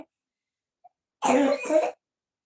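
A single short, throaty cough burst, close and clear, after a moment of near silence.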